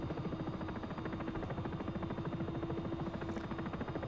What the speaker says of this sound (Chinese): 这台直升机感觉比刚才那台小飞机的速度还要 感觉快一点点